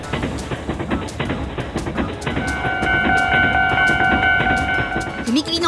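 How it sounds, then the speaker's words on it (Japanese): A Plarail toy train clatters along with rhythmic clicking, then an electronic level crossing signal from a toy crossing set starts ringing steadily over the running noise. "踏切の音や電車の走る音、駅のアナウンスが流れるんだ。"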